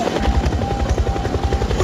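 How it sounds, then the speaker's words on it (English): A helicopter's rotor thumps steadily with a rapid low chopping pulse and engine whine, loud and close, no talking. "No, the helicopter kept going. It's flying around the top of the mountain."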